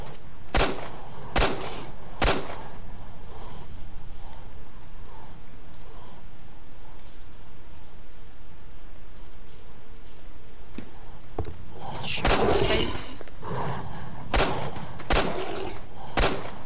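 Rifle fire in S.T.A.L.K.E.R. Lost Alpha: three sharp, well-spaced shots, a long quieter stretch, then a close flurry of cracking shots and thuds near the end.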